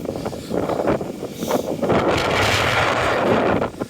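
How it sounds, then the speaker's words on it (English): Strong gusts buffet the microphone on a windy New Year's Day woodland hike in Derbyshire, loud rumbling wind noise that swells and roars continuously, with no speech. "Wind's definitely picked up now."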